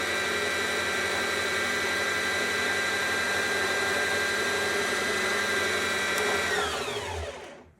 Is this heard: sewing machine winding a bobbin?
yes